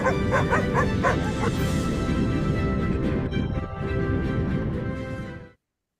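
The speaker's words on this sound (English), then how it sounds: "look at all those puppies!" Many puppies yip, whimper and bark together, a busy overlapping chorus that continues steadily then stops abruptly near the end.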